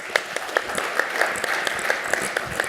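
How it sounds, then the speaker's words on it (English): A conference audience claps for a panel moderator at a technology talk, with a steady ripple of applause and a few sharper claps standing out, fairly close and continuous throughout. "let's give him a round of applause to kick this off"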